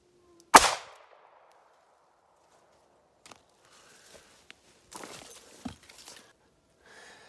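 A single sharp, loud gunshot from a .32 H&R Magnum fires into four layers of denim over ballistic gel, decaying quickly. Faint handling noises and footsteps follow in the quiet afterward.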